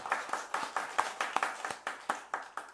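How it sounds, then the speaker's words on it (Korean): A church congregation claps in a quick, steady rhythm during a Sunday worship service, about fifteen crisp hand claps over a few seconds, moderately distant and unaccompanied by talk. "우리 박수 한번 드리겠습니다."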